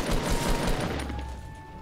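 Gunfire in the video game Fortnite, a dense rattling volley in the first second that fades into a lingering tone and quieter ambience, moderately loud and nearby.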